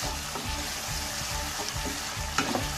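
Fried chili sautéing in a hot pan for a Filipino ginataang tulingan dish, a steady close sizzle and crackle with soft stirring scrapes throughout and no talk.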